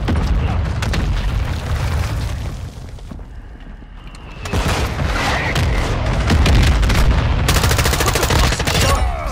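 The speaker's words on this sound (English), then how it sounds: "Friendly missile entering the sector." Dense barrage of booms and rapid gunfire from a missile strike in Modern Warfare 2 multiplayer, loud and sustained, dipping briefly into a quieter stretch before erupting again with heavy blasts and crackling shots.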